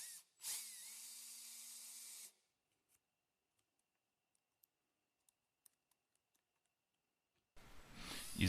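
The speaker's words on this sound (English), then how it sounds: "Pre-drill the remaining holes and finish fastening the templates to the plywood." A power drill pre-drilling holes in plywood whirs loudly for about two seconds, stops, then faint clicks and taps follow before a second burst of drilling at the end.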